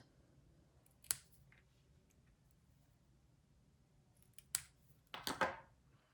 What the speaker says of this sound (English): on the scissors, there's a line right there, and that's where I'm going to cut